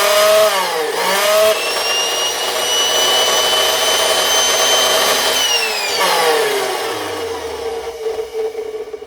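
A freshly greased Craftsman 207.25602 circular saw runs loud and close, its motor whining steadily with swells in pitch, then spinning down near the end.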